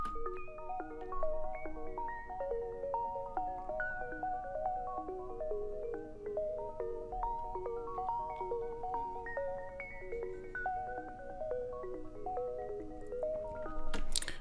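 A soft ambient synth arpeggio of rippling chord notes, band-pass filtered and warmed with RC20 Retro Color for an RnB trap beat in FL Studio, quiet and continuous with a small swell at the end.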